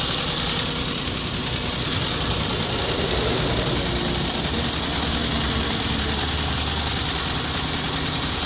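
A Maruti 800 car engine idles steadily during an alternator repair, its continuous even running noise close and unbroken, with no talk over it.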